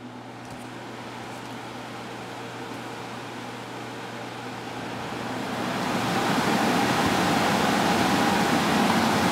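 A PSC blower motor in an HVAC unit runs on its highest speed with its airflow restricted, a steady low hum under a broad airy rush that grows louder partway through and then holds.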